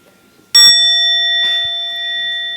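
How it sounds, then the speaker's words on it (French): A meditation bell struck once to wake it rings out with a sharp metallic onset, then a long, clear, steady tone with bright overtones sustains and slowly fades; a faint second tap sounds midway. "Si on reste ici, ça veut dire éveiller la cloche."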